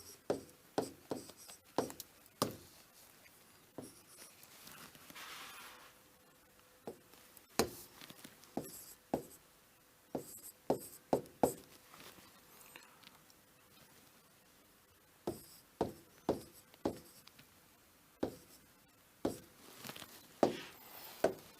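Sharp, quick taps and strokes of writing out a number system example sound close and intermittent, coming in clustered bursts separated by short quiet gaps, with no speech.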